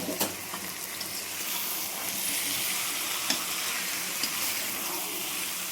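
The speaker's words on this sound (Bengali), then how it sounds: "এবার দিলাম আলুগুলো, আলু দিয়ে একটু ঝোল করবো" Potatoes go into a sizzling chicken curry (dahi chicken) in a pan, producing a dense, steady frying hiss with light stirring scrapes throughout, loud and close with no talk.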